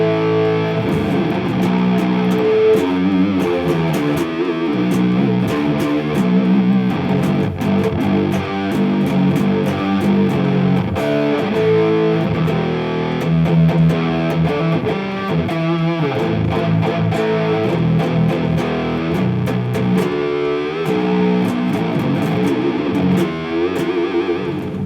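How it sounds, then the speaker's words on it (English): Heavily distorted electric guitar played through a distortion pedal emulating the Boss Metal Zone into a Marshall-style amp emulation, chugging metal riffs and sustained chords, loud and continuous with no talk. "I went for a distortion pedal, which is the metal area, which is an emulation of the Metal Zone"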